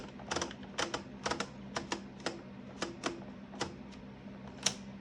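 A Silver Reed knitting machine carriage slides across the bed reading a punch card, making a series of sharp, irregular mechanical clicks at close range over a low steady hum.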